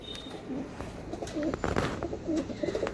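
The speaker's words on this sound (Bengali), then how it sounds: "ফুল মস্তি পায়রা, একদম অ্যাক্টিভ পায়রা" Pigeons at a sale in Howrah coo softly, with several low, rolling coos scattered over faint background rustle and a few short knocks, all quiet and fairly close.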